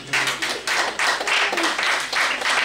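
Audience applause at an awards gala in Cotonou, a steady dense patter of many hands clapping for nearly three seconds, fairly loud and continuous with slight swells.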